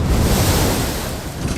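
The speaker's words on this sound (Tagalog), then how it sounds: "Malakas ang alon na humahampas sa kanila." Strong storm waves pounding against a yacht at sea, a loud rushing surge of water with wind buffeting the microphone, continuous and close.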